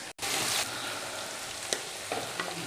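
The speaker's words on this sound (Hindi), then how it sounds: "लहसुन हमारा भून चुका है।" Garlic frying in a pan for spinach chicken (murg palak) gives a steady, close sizzle that runs throughout, with a few brief clinks and scrapes of stirring near the end.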